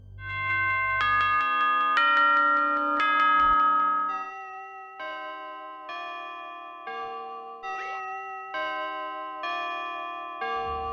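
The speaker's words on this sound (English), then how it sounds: "A grandfather clock, chiming the same song every time." The end-of-night grandfather clock chime from Five Nights at Freddy's rings out as a clear, melodic sequence of bell tones, each struck note sustaining and overlapping before the next, loud and alone.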